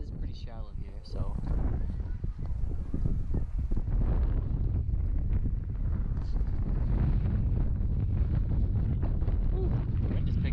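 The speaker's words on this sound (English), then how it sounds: "the wind is picking up" Wind gusting over a microphone outdoors on a shallow Colorado trout stream, a loud continuous low rumble and buffeting throughout, with a voice briefly heard at the start.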